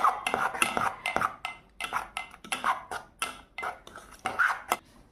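Sponge cake batter whisked hard in a bowl, the rapid scraping and clinking strokes coming in quick bursts with short pauses between them, close and fairly loud.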